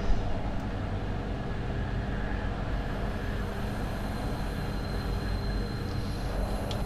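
An ÖBB Taurus 1016 locomotive runs along the Arlbergbahn in Train Simulator 2020, a steady loud rumble of motor and rolling wheels that continues evenly throughout with no talk.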